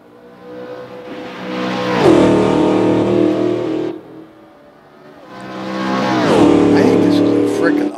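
A race car engine in a racing video game revs up, drops a gear and climbs again through two rising, roaring sweeps. The sound is fairly close and loud, and someone speaks briefly over it.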